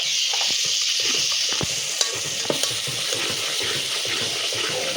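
Forty grams of ginger frying in a pan for wedding-style mutton curry gives a steady, close sizzle, with a few sharp clicks of a spoon stirring it partway through.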